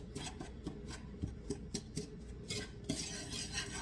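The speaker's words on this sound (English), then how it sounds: "I'm actually mixing everything I gave you, I put in one bowl." A utensil stirs buttermilk bread ingredients in a bowl, scraping and clinking against the sides in a quick rhythmic series of close, soft strokes, with no talking.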